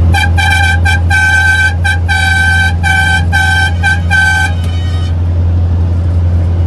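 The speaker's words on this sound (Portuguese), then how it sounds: "Vamos ver se conseguimos buzinar." A loud car horn honks in a rapid series of short and longer blasts over a steady engine drone, then stops.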